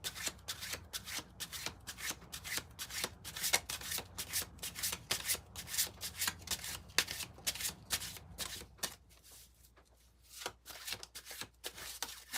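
A deck of tarot cards is shuffled close up in a fast run of crisp riffles and rubs. The shuffling pauses briefly near the end, then resumes, with no talking.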